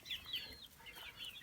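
Chickens in a backyard coop, including a young Cornish Cross bird, give soft high clucks and short calls, quiet and somewhat distant.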